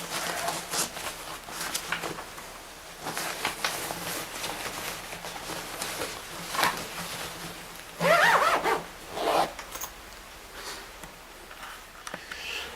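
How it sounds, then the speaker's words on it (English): A zipper on a bag is pulled in several quick rasping strokes, the loudest bursts near the end, close up against faint room noise. "So we'll just zip that up."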